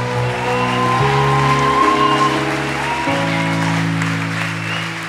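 A church congregation applauds steadily, loud and close, while sustained organ or keyboard chords ring underneath throughout.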